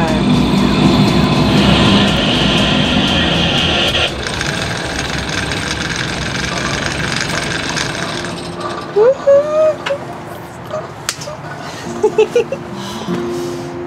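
A sailboat's engine runs hard at full throttle in reverse while anchoring in New York City, a loud broad rumble that drops partway through and then gives way to quieter sounds with a few short bursts near the end.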